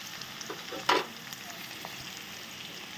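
Green chili paste frying in a pan, a soft steady sizzle with a brief louder burst of crackle near the start, otherwise low and even.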